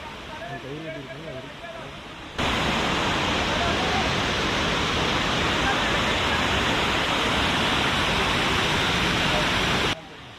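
Lekkam waterfall in Munnar, where people bathe in clear water, pours as a loud, steady, broadband rush of falling water close by. It follows a few seconds of talking and runs unbroken for about eight seconds.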